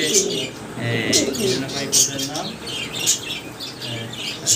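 Pigeons kept by a pigeon seller, a pair shown for sale, give soft coos and chirps throughout, mixed with nearby rustling and someone talking over them.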